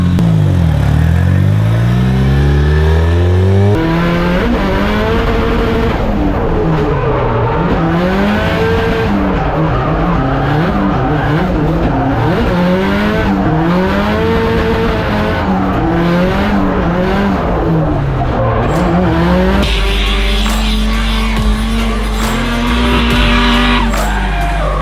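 An SR20-engined Mazda MX5 on BC Racing coilovers accelerates hard, its engine note climbing and dropping through gear changes while tyres squeal continuously, loud and close throughout.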